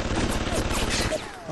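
An automated security turret in the game Bioshock firing rapid bursts, a dense, loud rattle of gunfire continuing through the moment with a voice talking over it.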